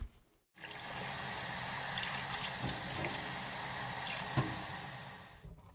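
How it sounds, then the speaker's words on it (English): Water runs steadily into a rock tumbler barrel, a soft continuous pouring trickle after a brief silence, with a couple of small clunks partway through. "Next step is to put some water in and put in my grit"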